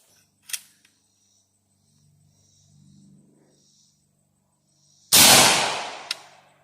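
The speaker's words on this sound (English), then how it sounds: "we shot the mag in the gun" A single loud gunshot from a DPMS pistol fired into a loaded STANAG magazine bursts out near the end, its roar decaying over about a second with a sharp metallic click after; a faint click and murmur come earlier.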